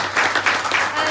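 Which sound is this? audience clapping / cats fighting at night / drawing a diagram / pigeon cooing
audience clapping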